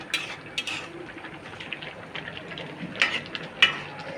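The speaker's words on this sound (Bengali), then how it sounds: "এখানে কাতল মাছের মাথা দিয়ে লাউ রান্না করতেছি" Bottle gourd cooking with katla fish head in a pot, with faint clinks and scrapes of a utensil against the metal pot and a soft background simmer, quiet and close.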